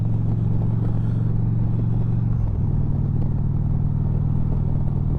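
Indian Challenger motorcycle engine rumbling steadily while being ridden, a loud continuous low drone with a brief dip in pitch midway, as if shifting, then holding on without talk.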